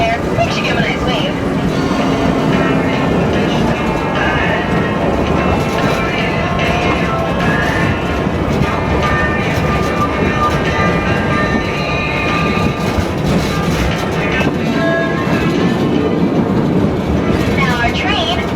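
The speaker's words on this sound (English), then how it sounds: "Now, our train makes a lot of sounds" A Hawaiian Railway train runs along its tracks, a steady loud rumble with rhythmic rail clatter and wheel squeal throughout, while a voice talks over the noise.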